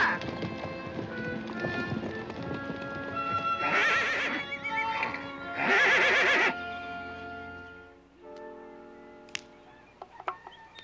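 Mares and stallions from an Assateague pony roundup give loud, close whinnies and a clatter of hooves, with two long neighs in the middle and a few sharp knocks near the end.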